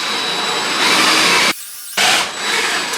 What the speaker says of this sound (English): So Holmes, I'm gonna drill this one out first for this bolt.